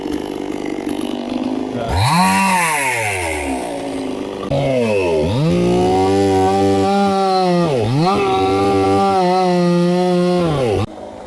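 Chainsaw cutting through a tree trunk, the engine loud and close, revving up and bogging down in repeated swells as the chain bites into the wood, with no talk.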